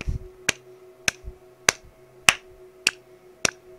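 Sharp recorded claps fall at a steady metronome pace, six or seven evenly spaced crisp hits over a low sustained tone, with a brief low rumble at the start.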